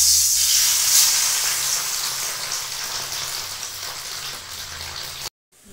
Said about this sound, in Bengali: তেল গরম হয়ে গেছে, পনিরটা একটু ভেজে নেব।